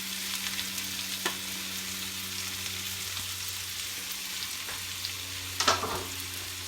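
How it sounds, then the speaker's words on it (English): Onions and green chilies fry in a pan for dal makhani, giving a steady close sizzle with soft stirring scrapes and a few sharp pops, the louder pop coming near the end, with no voices. "See, the green chilies are also popping. Now you add onions, even the green onion too."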